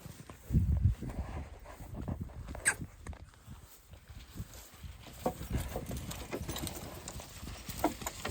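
Hooves of a draft mare walking on her own while pulling an empty cart, with a slow, uneven clip-clop, fairly close and quiet against outdoor background noise.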